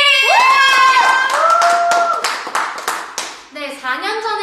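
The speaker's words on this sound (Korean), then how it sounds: "박수 한번 치고 시작할까요?" Hand clapping from a K-pop girl group on a show, with bright voices and cheering over quick rhythmic claps, close and loud with no pause in the noise.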